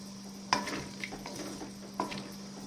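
Sweet fried bara dumplings being stirred in boiling sugar syrup on a gas stove, giving soft scraping and clinking spoon strokes at a steady pace over a low simmering bubble, close and alone with no talk.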